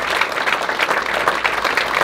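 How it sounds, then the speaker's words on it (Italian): Brief burst of audience applause at the inauguration of a ceramics exhibition in Castellamonte, even and sustained clapping from a crowd with no talk. "li saluterei con un applauso, i figli di Mariupol, che sono con noi"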